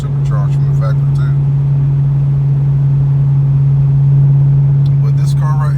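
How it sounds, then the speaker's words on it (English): Steady in-cabin drone of a 2014 Chevrolet SS with its V8 cruising, a constant low hum and road noise while someone talks over it. "this car right here, the 2014 Chevrolet SS"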